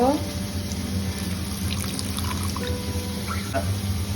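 Water running and splashing into a cooking pan of spiced eggplant with green chili, steady and continuous over kitchen background noise, under a voice talking.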